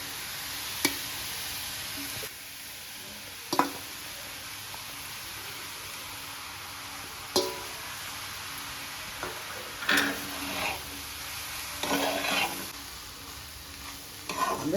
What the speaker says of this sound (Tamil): இந்த டைம் நம்ம சாதத்தை கொட்டி கிளறிட்டோம்னா போதும்